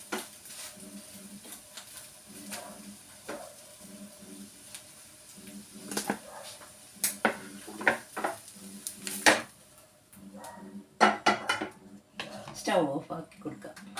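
An omelette being tapped from a pan onto a plate, with a series of sharp metallic knocks and clatters of pan against dish, interspersed with talking.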